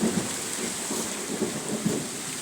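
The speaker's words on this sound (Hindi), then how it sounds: "तेज़ हवा है, बारिश भी हो रहा है और गरज चमक भी हो रहा है" Heavy rain pours steadily during a thunderstorm with strong wind, a dense hiss punctuated by several low thunder rumbles and thuds spread through the passage.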